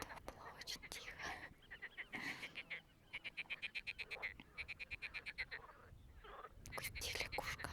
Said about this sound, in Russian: Уйди, лягушка. Лягушка, уйдите.